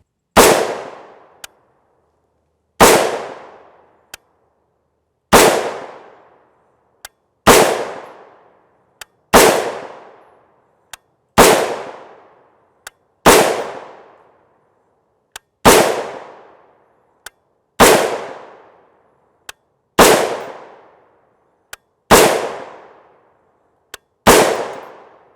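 Twelve evenly spaced rifle shots from a 14.5 inch AR-15 upper firing .223 Remington Scorpio 55gr FMJ, each a loud sharp crack with a short decaying ring, with faint clicks between shots.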